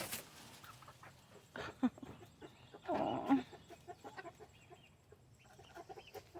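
Young pullets, including Astrolorp and Ancona-type hens, cluck and chatter close by in a farm enclosure, with a louder burst of squawking in the middle and a brief spoken exclamation.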